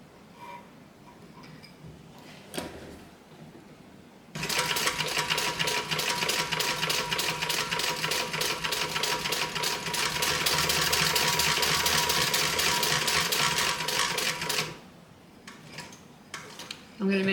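A sewing machine runs steadily for about ten seconds while stitching along the outside edge of a bag without backstitching, a loud continuous mechanical whir with rapid needle ticking, set between quieter stretches of room noise.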